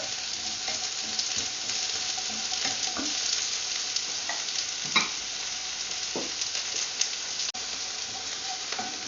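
Chopped onion sautéing in a pan, a steady close sizzle with occasional scrapes and clinks of a spoon stirring, fairly even in level and free of any voices.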